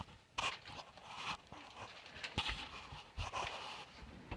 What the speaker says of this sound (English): and our dog, Charlie.